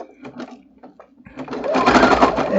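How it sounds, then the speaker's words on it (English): A sewing machine runs a short, fast burst of stitching along a quilt seam, close and steady. A few soft handling noises come just before the motor starts. "I'm going to just sew along here"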